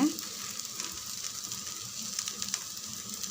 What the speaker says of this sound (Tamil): அப்படியே நம்ம இந்த சைடும் கொஞ்சம் எண்ணெய் ஊற்றி விடுங்க.